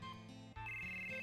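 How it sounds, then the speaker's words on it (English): Phone ringing in the Final Fantasy VII video game, an electronic ringtone with a steady repeating tonal pattern, soft and alone. "We getting a phone call."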